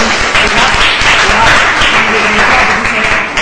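A primary-school class clapping for a classmate during a maths lesson, loud and close, a continuous dense patter of many small hands filling the whole stretch.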